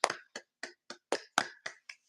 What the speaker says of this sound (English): Let's clap for Avery once more time.